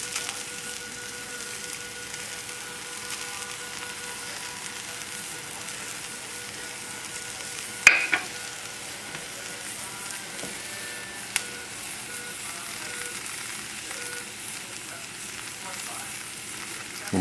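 Tomato paste fries in a pot for braised lamb shanks, a faint, steady low sizzle that runs throughout, broken by one sharp clatter partway through and a smaller tap later.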